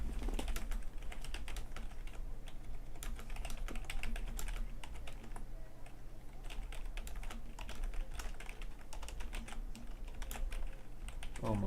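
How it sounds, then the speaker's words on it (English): Rapid typing on a computer keyboard, a steady, dense clatter of keystrokes that runs throughout with no pauses and a low background hum underneath. "I'm so bad at typing"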